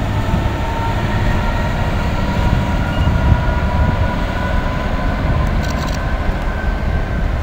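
The 4M61 freight train from Southampton to Trafford Park rumbles loudly and steadily past while leaving Nuneaton northbound, with continuous wheel and wagon noise throughout and no talk.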